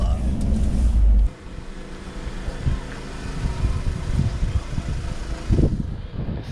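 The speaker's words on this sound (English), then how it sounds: "Now on the minibus on our way to the day's adventure." Steady low vehicle rumble and road noise from inside a moving minibus in Iceland, constant throughout, with a brief louder low thump at the start.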